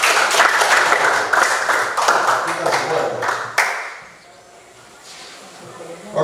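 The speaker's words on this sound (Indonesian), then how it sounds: "Oke, tepuk tangan untuk kita semua dulu." A classroom of students claps hands together in a brisk burst of rhythmic clapping for about four seconds, then stops abruptly, leaving quiet room sound with a teacher's voice briefly heard.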